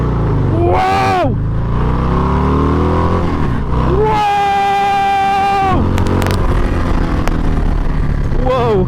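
Harley-Davidson Low Rider ST motorcycle accelerating hard through the gears, loud engine revs rising and dropping in two strong pulls at close range, with excited voices shouting over the exhaust.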